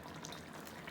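A cup of water poured into a pan holding browned cube steaks, a soft continuous splashing and trickle that stays fairly quiet and even throughout, with no voices.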